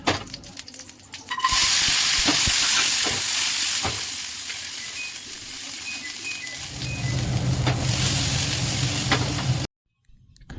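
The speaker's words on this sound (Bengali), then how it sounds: "আমি কাজু কিশমিশটা ভেজে তারপরে পায়েসে দেবো" Cashews and raisins fry in ghee with a loud, steady sizzle and hiss, broken by the scrape and clink of a stirring spoon, before the sound cuts off abruptly.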